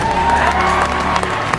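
A large crowd at a political rally cheers and whoops, a dense, loud roar of voices with scattered shouts that carries through the whole short burst.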